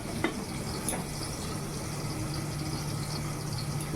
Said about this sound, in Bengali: তো এই যে কাঁচকলা ভাজাটা চাপিয়ে দিলাম লবণ হলুদ দিয়ে।